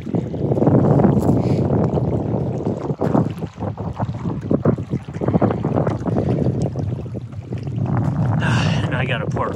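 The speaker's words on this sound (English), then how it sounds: "It's just too windy." Strong gusting wind at a lakeside campsite in Kentucky near a boat ramp and dam, buffeting the microphone with loud rumbling bursts, with a person talking over it.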